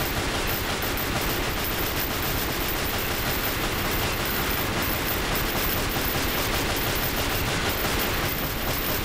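Rapid, continuous gunfire from the video game Chaos Legion, a dense unbroken rattle like automatic fire holding steady and loud throughout with no pauses.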